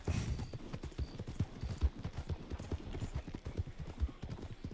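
A horse's hooves clip-clop in a steady, quick rhythm while being ridden in the video game Red Dead, close and clear, with faint background ambience and no talking.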